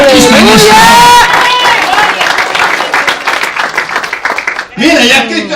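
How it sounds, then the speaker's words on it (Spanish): Church congregation breaking into loud, sustained applause and cheering, with a preacher's voice speaking loudly over the start and again at the end while the clapping continues beneath. "Denle un aplauso a Cristo en esta hora."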